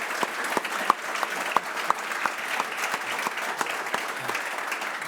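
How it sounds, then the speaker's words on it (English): An audience applauds at the close of a Q&A session on insurers in financial institutions, steady dense clapping filling the room without a break, some sharp individual claps standing out. "please give them a warm round of applause"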